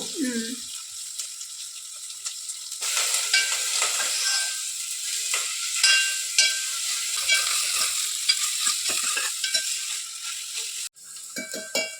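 Loud, steady sizzling of onions and curry leaves frying in hot oil with mustard seeds, with occasional stirring scrapes and a brief break near the end.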